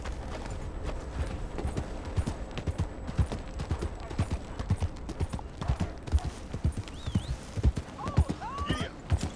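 In Red Dead Redemption 2, a horse's hooves clip-clop in a steady, close rhythm, and the horse whinnies briefly near the end.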